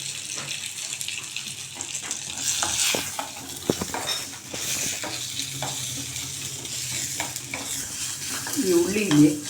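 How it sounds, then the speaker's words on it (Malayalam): Garlic, ginger and shallots frying in a pan, a continuous sizzle with stirring scrapes throughout, and a brief voice near the end. "എന്നിട്ട് ഇതെല്ലാം കൂടി നന്നായിട്ടൊന്ന് വറുക്കുക"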